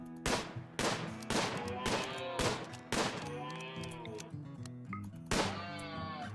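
A colonist in RimWorld fires at a target: a series of about seven evenly spaced sharp shots, each with a brief tonal ring, over a low game background, with a quick animal cry mixed in.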